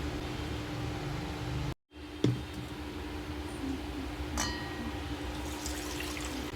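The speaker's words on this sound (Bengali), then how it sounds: "গোবিন্দভোগ চাল নিয়েছি, কিন্তু সেটাকে মাত্র দুবারই ধোবো" Gobindobhog rice being washed in water, giving a steady soft watery swish with faint drips and a brief pause partway through, close and fairly quiet with no talking.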